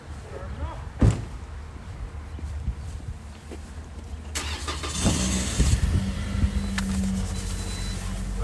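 A 2019 Toyota Corolla LE started on a cold day of about 20–25 degrees: a door thump, then a little later the engine catches and settles into a steady close idle, with voices talking throughout.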